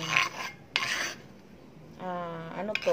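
Grated ginger and radish for kinilaw are stirred and mixed in a bowl, giving short scraping, clinking strokes in separate bursts with quiet gaps between them.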